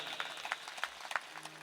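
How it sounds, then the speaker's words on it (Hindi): Applause from an audience at a Shri Bhaktamal Katha religious gathering in a Rajasthan village, heard as a fairly faint, scattered patter of hand claps spread across the moment, without a swelling roar. "एक बार जोरदार ताली।"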